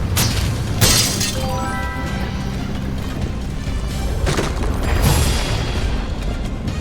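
Window glass shatters in a cartoon, with sharp crashing bursts near the start and again around five seconds over a dense, loud, rumbling background of debris and noise, no talking.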